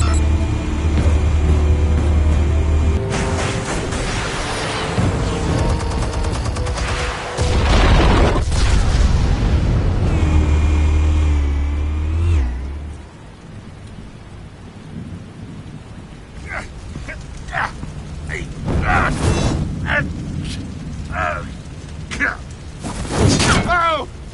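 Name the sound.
explosives detonating in Batman video game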